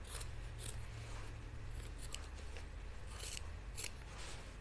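Scissors snip along fabric trimming seam allowance while sewing slacks, a series of short crisp cuts spread through the passage over a low steady room hum, with no talking.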